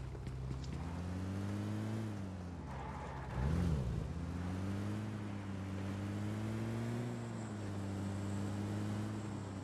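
Steady engine drone of a car driving in a multiplayer shooter game, with a brief louder swell partway through, continuous and close with no talk.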